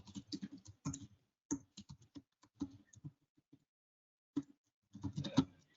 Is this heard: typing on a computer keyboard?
yes